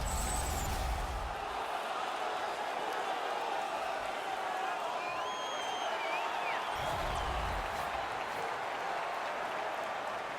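A simulated arena crowd in an ice hockey video game on PS4, USA versus Norway, keeps up a loud, steady roar of cheering. A commentator's voice runs over it throughout.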